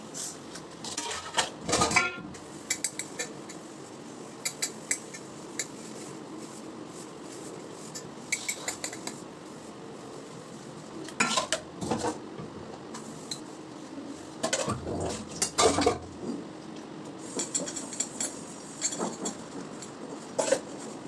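Dishes and pans clatter and clink in irregular bursts, metal scraping against metal, with quieter gaps between and no talking.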